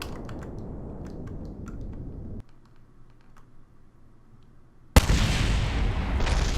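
A rocket launching in a spaceflight game roars in abruptly after a quieter stretch, a sudden loud burst that holds as a dense, broad rumble to the end.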